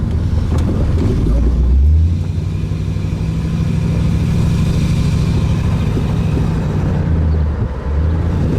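A 1964 Studebaker Daytona convertible with a 259 V8 drives along, its low engine rumble steady and close under wind noise, shifting pitch slightly as it cruises, with no talking.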